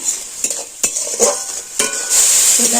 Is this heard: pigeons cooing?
no